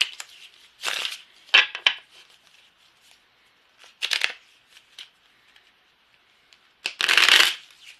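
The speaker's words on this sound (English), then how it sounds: "So I'm just going to shuffle the cards really good" Tarot cards shuffled by hand at close range, a series of crisp riffling bursts with short pauses between them and a longer, louder riffle near the end.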